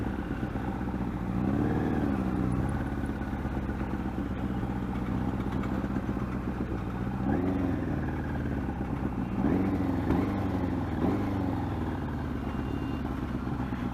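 A Yamaha R1 superbike ridden through Indian city traffic, its engine droning and rising in short revving sweeps up close. Surrounding traffic rumbles underneath, and faint talk can be heard.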